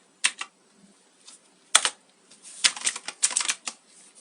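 Keys clack on a STOGA mechanical computer keyboard in short irregular bursts of crisp, close clicks with brief pauses between them and no talking.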